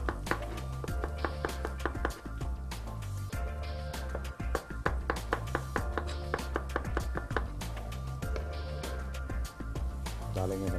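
Knife slicing mushrooms on a cutting board in a home kitchen, a quick run of sharp, close taps landing in an uneven but steady rhythm over faint background sound.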